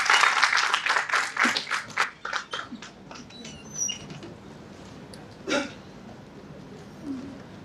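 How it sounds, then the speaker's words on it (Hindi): A burst of hand clapping from an audience at a literature festival opening ceremony, brisk and fairly close, tapering off over a few seconds into quiet room noise. "तालियों की गड़गड़ाहट के साथ"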